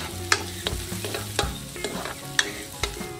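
Garlic and onion sauté in hot oil with a close, steady sizzle, punctuated by about half a dozen sharp scrapes and taps from a spatula against the pan.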